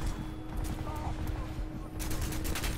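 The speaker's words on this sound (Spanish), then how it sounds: "me están disparando" Rapid bursts of gunfire in the video game Crysis 2 crackle in quick succession, fairly faint against a busy background of noise, in an underground garage.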